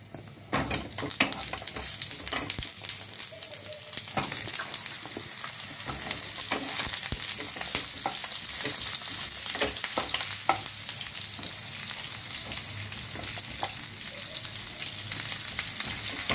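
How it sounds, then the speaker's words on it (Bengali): Pointed gourd and potato pieces frying together in oil sizzle and crackle continuously, with occasional stirring clicks of a utensil against the pan. "এবার আমি পটলগুলো দিয়ে দিচ্ছি তেলের মধ্যে।"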